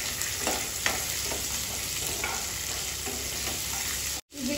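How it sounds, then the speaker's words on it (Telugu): Curry leaves dropped into hot oil in a pan give off a loud, even crackling sizzle that runs continuously, broken by one brief drop-out near the end. "కరివేపాకు కూడా వేసుకుందాము, కరివేపాకు కూడా వేస్తున్నాను"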